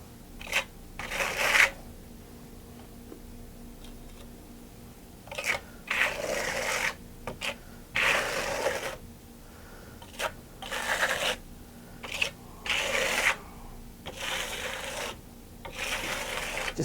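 Steel trowel spreading creamy rustic lime plaster across a wall in a saddleback texture, giving repeated close scraping sweeps in irregular bursts with short quiet pauses between strokes.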